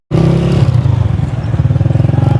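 A motorbike on a road near a roadside hotel on the outskirts of Islamabad slows down. Its engine makes a close, loud, rough low rumble with a steady rapid pulsing, and it eases off partway through.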